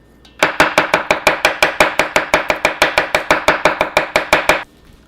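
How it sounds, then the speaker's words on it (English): Salted shrimp for kimchi chopped with a knife on a board: a fast, steady run of about two dozen sharp, close chops in even rhythm, with no talking. "And then we are going to chop this up."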